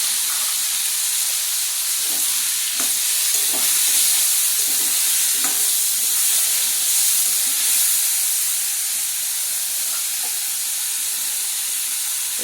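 Grated tomato is added to a pan of fried potatoes for a banana flower and prawn curry, raising a loud, steady hiss and sizzle with occasional soft stirring clicks.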